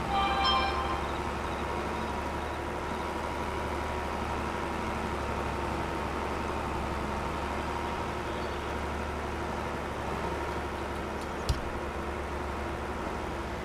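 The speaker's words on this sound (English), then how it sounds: "We got took out by the train." A train rolls past in a Farming Simulator 22 farm world, a steady low rumble and hum holding evenly throughout with a faint rattle, crickets and a brief sharp knock near the end.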